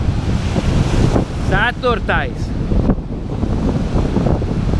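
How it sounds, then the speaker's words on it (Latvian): Sea waves break and roll onto the shore in a continuous roar, loud and close, with heavy wind buffeting the microphone and a brief spoken word and some chirping sounds mixed in. "Gandrīz jau tas bija 9. vilnis."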